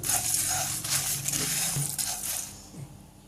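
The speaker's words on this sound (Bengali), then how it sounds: "এবার আমি একটু নেড়ে চেড়ে নিচ্ছি কিছুক্ষণ" Cardamom pods and whole spices stirred in a pan for a homemade meat masala mix, giving a steady dry rattling and scraping close by, continuous for a few seconds before easing off.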